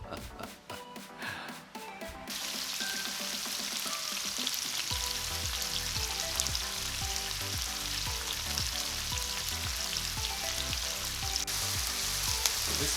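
Dry peppers and onions hit a hot pan, opening with some clattering and low rumble before settling into a loud, steady close sizzle that carries on to the end.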